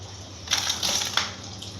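Water gushes out across a clothes-washing area in a home, a steady hissing splash that swells and stays loud for about a second with a few sharper bursts, alone without voices.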